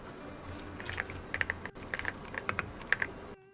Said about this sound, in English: That's her typing, dude.